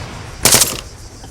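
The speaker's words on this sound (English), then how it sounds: "Now my guys are shooting" A short loud burst of squad gunfire in the video game ARMA 3, a quick rattling volley of shots that fades within a second.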